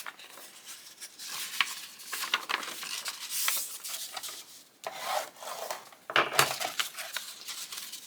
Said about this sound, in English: I'm going to fold on those score lines again to make my gusset.